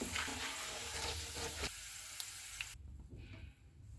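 Edible gum (gond) sizzles in hot oil over a low-to-medium flame, a soft, steady crackling hiss that is quiet and close, with abrupt drops in level partway through.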